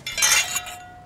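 Glasses clink together in a toast, a bright ringing chink that quickly fades, heard alone at close range.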